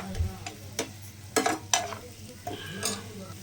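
Onions cooking in a pan for a quail pepper fry, with a soft sizzle under a few sharp spoon scrapes and stirring clatters against the metal.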